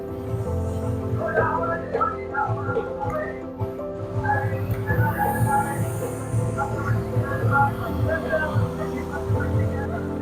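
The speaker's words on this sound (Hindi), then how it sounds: "कितने बड़े बड़े पंखे हैं। तो ठंडी हवा, पानी का फुहार भी चल रहा है इसमें से" Large outdoor cooling fans blowing a water mist spray at a haveli in Amritsar, giving a steady droning hum with a faint hiss throughout, under a busy crowd's chatter.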